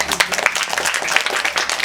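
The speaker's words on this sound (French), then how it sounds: "Applaudissez pour moi" A school audience claps at an Easter chocolate egg celebration, giving a brisk, uneven patter of many hands, loud and close, for about two seconds.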